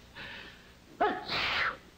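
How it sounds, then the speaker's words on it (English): A single sneeze: a short sharp intake of breath followed by a loud burst, close and isolated in a quiet room. "Oh, I think I've got to sneeze."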